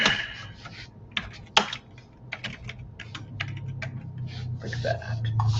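Typing C++ code on a computer keyboard, with irregular bursts of clicking keys and short pauses, close to the microphone over a steady low hum, with no talking.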